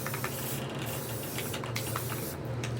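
A spray paint can hisses out navy blue paint onto a stenciled planet artwork, a steady broadband spray running continuously and fairly close, with small pulses as the nozzle is pressed.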